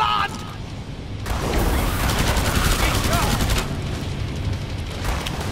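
Automatic guns firing in Killing Floor 2, a loud sustained barrage of rapid shots that swells after a quieter opening, with voices talking underneath.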